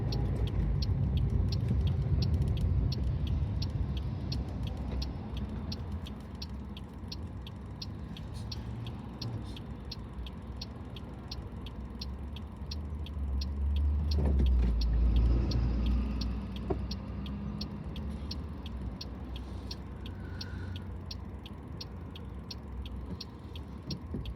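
A car drives through a busy road junction on a sunny day, with steady engine and road noise from inside the cabin, a low rumbling swell midway and a few small creaks and clicks, no talking.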